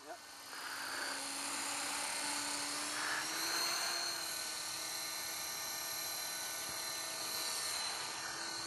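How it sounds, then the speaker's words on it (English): A radio-controlled model helicopter idles with its throttle dropped, its rotor and motor making a steady high whine and hum that holds close and even for several seconds. "I can't believe how slow your RPMs gets when you idle down and you drop the throttle."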